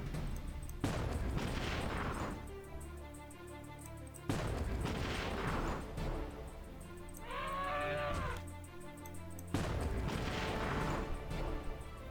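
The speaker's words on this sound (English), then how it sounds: "So I'm just gonna line up the tanks and fire." Tanks firing in the Battle Nations strategy game, three or four heavy booming shots spaced a few seconds apart, each with a long rumbling decay, and a brief animal-like bellow between volleys.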